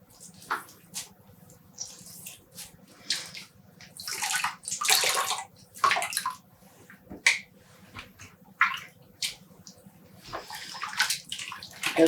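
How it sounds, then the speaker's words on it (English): Wet dyed yarn is squeezed by hand in a tub of colored water, producing irregular squelching drips, sloshes and trickles in close bursts with quiet pauses between. "Now we'll squeeze out water again."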